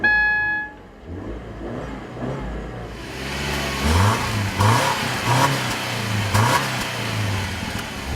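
A Subaru Impreza with a horizontally opposed boxer engine pulls away in an industrial part of San Francisco, its engine revving in several rising surges, close and fairly loud with no talk.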